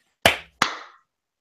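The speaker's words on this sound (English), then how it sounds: "clap check in 3" Two sharp hand claps land about a third of a second apart, close and loud against silence, each with a short ringing room decay, used as a sync marker.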